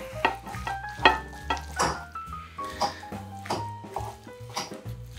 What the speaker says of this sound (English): And again, I'm gonna mix that in.